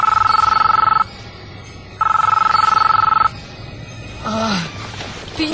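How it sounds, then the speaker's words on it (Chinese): A telephone rings loudly in two long bursts separated by a short pause, followed by a brief odd warbling sound; no one speaks. "在睡梦当中被一个神秘的电话吵醒了"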